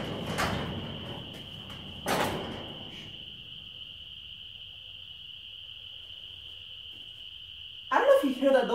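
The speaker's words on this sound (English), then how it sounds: "I don't know if you hear that, those are frogs." Frogs calling from a pond in a rural outdoor setting, a steady high-pitched trilling chorus held throughout at moderate distance, with brief louder rustling bursts near the start and end.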